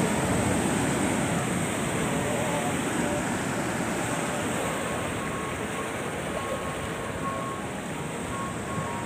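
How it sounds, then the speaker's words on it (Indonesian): Ocean waves break against the rocky shore at Tanah Lot, Bali, a loud, continuous wash of surf that eases slightly toward the end, with faint voices in the background. "Lihat ombak sih."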